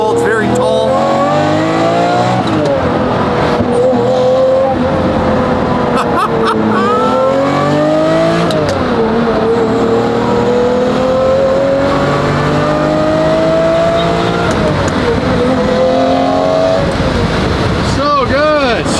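A Lamborghini Murcielago converted to rear-wheel drive accelerates hard in a loud, close onboard engine roar, with rising pitch sweeps broken by quick downshifts, including a drop into second gear, and the revs surging again. Someone speaks over the engine.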